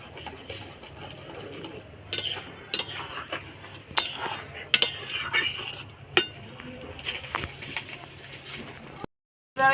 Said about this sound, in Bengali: আর খুন্তিটা নেড়ে যেতে হবে, নইলে তলায় লেগে যেতে পারে